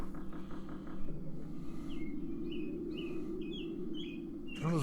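A bird calls right outside a window, giving a string of short chirps over a steady low hum of game music and background noise, moderately faint.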